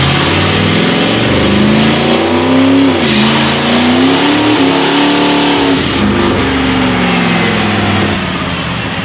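A Ford F-150 pickup on nitrous roars hard under acceleration, its loud engine note climbing and dropping through quick gear shifts over about nine seconds, close and continuous with no talk.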